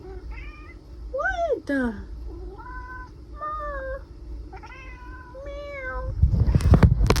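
A pet cat meows repeatedly indoors, a series of clear, close, rising-and-falling cries with brief gaps, followed by a rustling burst at the end; a person speaks briefly.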